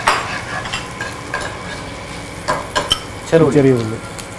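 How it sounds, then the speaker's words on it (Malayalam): Green chillies and chopped onions sauté in hot oil in a Kuttanad-style kitchen, a steady sizzle with intermittent scraping stirs and utensil clatter, a brief voice-like sound near the end. "പച്ചമുളക് ഇതെല്ലാം കൂടി നന്നായിട്ട് ആ എണ്ണയിലൊക്കെ ഒന്ന് വഴറ്റി."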